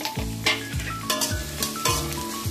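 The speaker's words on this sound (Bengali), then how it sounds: "কড়াতে তেল দিয়ে দিয়েছি। প্রথমে আমি দিয়ে দেবো পেঁয়াজ কুচি।" Chopped onions fry in hot oil in a wok, giving a steady sizzle broken by regular scraping stirs of a spatula.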